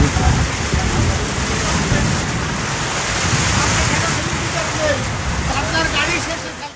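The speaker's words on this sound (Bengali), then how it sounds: "তীব্র ঝড় বৃষ্টির মধ্য থেকে আপনাদের স্বাগত জানাচ্ছি" Heavy Kalbaishakhi storm rain on Salepur char in the Padma river, a dense unbroken roar of downpour and gusting wind that stays loud and steady throughout.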